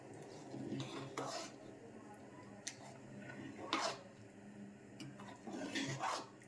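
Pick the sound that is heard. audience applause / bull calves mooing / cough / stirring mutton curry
stirring mutton curry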